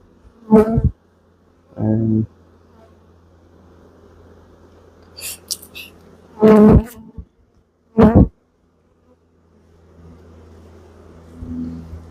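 Honey bees buzz around an open hive in a few loud, short passes that swell and fade, separated by quieter stretches with a faint low hum underneath.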